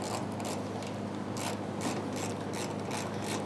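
Steady mechanical clicking of a ratchet wrench snugging down the two bolts on a 2010-2013 Kia Soul fuel tank, a close, continuous run of rapid pawl clicks with no talking.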